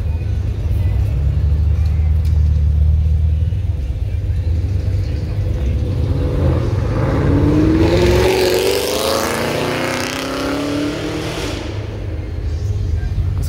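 Steady traffic of cars and Jeeps lined up around a busy parking lot, a continuous low engine rumble with one vehicle revving and passing mid-way, heard from a distance.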